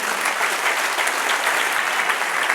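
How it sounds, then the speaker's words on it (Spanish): A church congregation claps and applauds steadily throughout, a dense, loud, continuous wash of hands with no voices rising above it. "Dale un aplauso al Señor."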